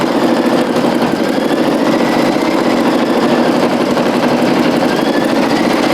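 A Brother single-needle embroidery machine stitches a design onto a towel, a loud, steady, rapid mechanical whir and needle chatter running continuously up close.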